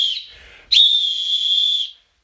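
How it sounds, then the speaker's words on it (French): A referee's whistle blows twice, first a shorter shrill blast, then after a brief gap a longer, loud, steady piercing tone that cuts off sharply. "un sifflet d'arbitre."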